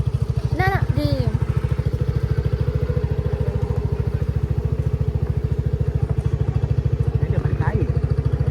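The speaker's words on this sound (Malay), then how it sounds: "So kita nak cuba motor yang kita nak bawa pula." A motorcycle engine idles close by in a steady, rapid low throb that holds for the whole stretch, with short bursts of voices briefly over it near the start and end.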